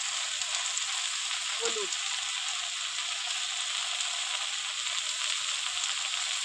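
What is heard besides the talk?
shrimp frying and sizzling in a pan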